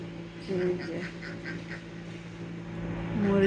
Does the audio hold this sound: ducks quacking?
yes